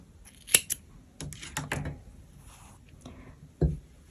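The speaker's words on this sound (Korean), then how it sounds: "잘라줍니다." Scissors snipping crochet yarn while finishing a scarf, a few crisp close cuts with small handling rustles between them in an otherwise quiet room.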